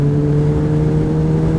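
Motorcycle engine drones steadily at close range, a strong constant hum holding through the clip as the rider moves to overtake, with no voices.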